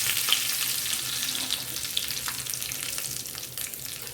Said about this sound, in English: urad dal, let us add curry leaves,